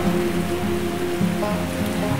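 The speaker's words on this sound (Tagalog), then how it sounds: "Biglang umulan." Steady rain pours down, a dense patter of drops on surfaces with a low rumbling wash beneath, continuous and fairly loud throughout.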